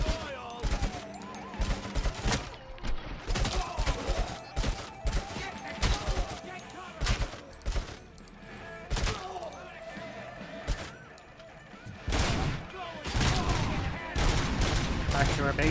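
Rapid gunfire from the basic gun in the Robocop video game, dense bursts of shots with shattering and impacts layered over busy game sounds, loud and continuous with a voice talking over it.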